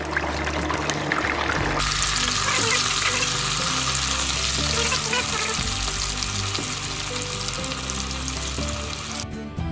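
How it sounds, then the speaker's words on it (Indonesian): Fish pempek deep-frying in plenty of hot oil, a steady dense sizzle that runs the whole time with a rhythmic low clatter of a utensil or pan underneath, no voices. "Empek-empeknya sudah kita goreng ya."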